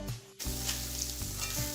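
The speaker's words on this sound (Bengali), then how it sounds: "পাতাগুলোকে রান্না করে নিচ্ছি" Drumstick leaves fry with rohu fish in a hot pan, giving a loud, steady sizzle with brief stirring scrapes and no voices.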